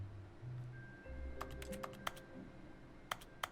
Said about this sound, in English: Stanley was so preoccupied by the imaginary keyboard noise